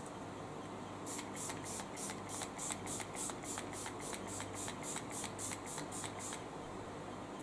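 Rimmel Insta Fix makeup setting spray misted in about sixteen rapid, evenly spaced pumps, each a short airy hiss, close up over a steady low background hum.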